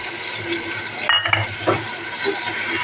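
Boiled corn stirred into a frying pan for a corn pasta dish, giving a steady sizzle with a few sharp clinks and scraping stirs from the spoon against the pan.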